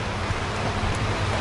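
Steady rain falls as a dense, even hiss that holds constant throughout the short stretch, with no voices over it.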